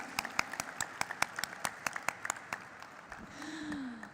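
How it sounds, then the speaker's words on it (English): Scattered, sparse clapping from a small crowd at a stock listing ceremony, a few dozen claps in loose rhythm, with a brief voice near the end. "Can we have a huge round of applause"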